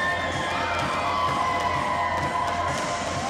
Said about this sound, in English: Big crowd right now. They got on the big board. They're all excited.